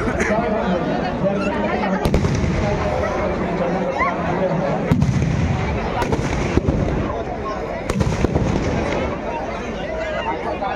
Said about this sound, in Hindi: दूसरे वाला को भी जला दिए हैं, देख सकते हैं आप लोग, धमाका स्टार्ट हो गया है।